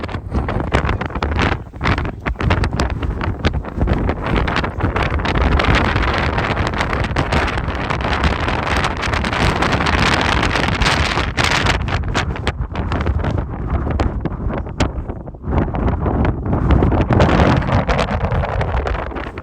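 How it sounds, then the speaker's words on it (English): Heavy wind buffets the microphone beside a chapel in a constant loud roar, gusting steadily with no voices. "it is really windy if I go around the side of the chapel"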